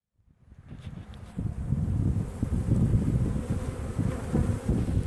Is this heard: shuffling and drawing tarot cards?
no